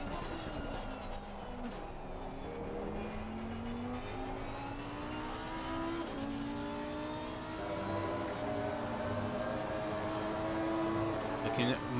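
Lamborghini Huracan race car in Assetto Corsa Competizione at Kyalami, engine pitch climbing and dropping through gear changes in a long onboard run, steady and fairly quiet.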